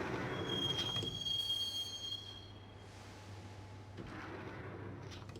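Subway train from the Max Payne game rolling toward Roscoe Street Station, with a steady rumble of wheels on rails and a thin, high wheel squeal over the first seconds, then a quieter hum before the rumble swells again.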